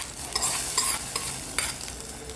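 Ghee-fried cashews and raisins are poured into a semolina and vermicelli porridge, making a brief hissing sizzle with light clicks and scrapes from stirring, close and moderately loud.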